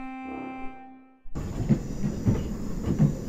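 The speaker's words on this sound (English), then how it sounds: "Here's the money train." Money train rolling in the Henry Stickmin Collection game: a steady tone gives way to a loud, continuous rumble of rail noise with rhythmic clacking wheels, close and without talk.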